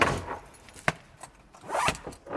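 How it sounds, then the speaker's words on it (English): A chunky zip is pulled open on a large tradesman's tool storage bag, two rasping bursts at close range, one near the start and a longer one toward the end, with a sharp click between. "Then your main handle, nice big chunky zips"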